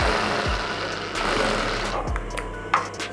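A sewing machine stitches a blouse with a steady mechanical whir and rapid needle chatter, a few louder clunks and thumps of fabric handling mixed in, close up and continuous.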